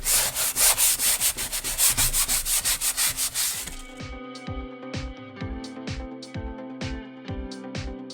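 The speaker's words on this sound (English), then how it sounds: "I'm going to do a little bit of sanding on this." Rhythmic back-and-forth scratching of sandpaper rubbed by hand against painted wood, brisk strokes at first, then lighter, softer rubbing.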